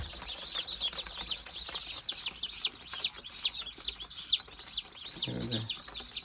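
Gavran chicks peep continuously in a busy flock of high chirps, with a brief low cluck near the end and soft wing flutters nearby.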